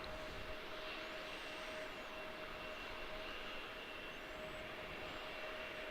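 An airliner from Beijing rolls along at Washington Dulles airport, a steady, distant jet-engine drone with a faint whining tone that holds evenly throughout, with no voices.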